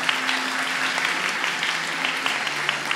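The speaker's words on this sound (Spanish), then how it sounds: "Un gran aplauso." An audience at a live comedy event at Centro Mori gives steady applause, a dense wash of clapping that holds at an even level for the whole stretch.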